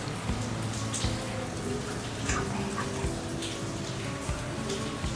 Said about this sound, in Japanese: さっきよりも雨が強く降ってきましたが